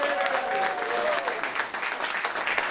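At a live comedy show the audience applauds steadily, with a brief whoop early on and a bit of crowd chatter under the clapping.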